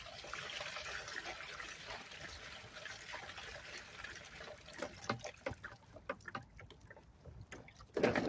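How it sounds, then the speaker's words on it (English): Water sloshes and trickles through a homemade gold rocker box, a steady wet wash with scattered splashes and clunks that grow louder near the end, no voices. "See how the water's pushing?"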